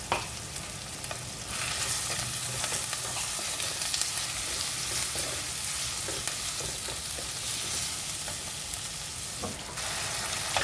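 Chopped tomato and salt sizzle steadily in a pan for Kerala-style fish curry, a continuous close frying hiss with occasional stirring scrapes.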